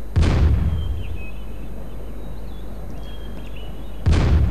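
Cannon fire from the Svea Rike II strategy game: two heavy booming blasts, one at the start and one near the end, with a steady low rumble and faint game tones between them.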